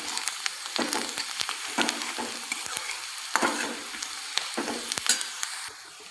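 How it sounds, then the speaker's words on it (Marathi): Onions sizzle and fry in a pan for kande pohe while a spoon stirs them, giving a steady hiss of frying broken by repeated scraping and clinking strokes, close and fairly quiet. "तर आपण याला असं छान असं परतून घेणार आहोत."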